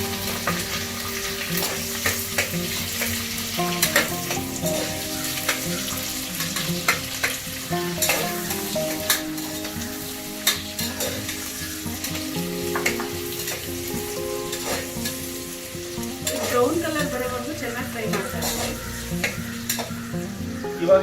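Green chillies and onions sizzle steadily in a pan while being stirred, with scraping utensil strokes over a continuous moderately loud fry and no talking.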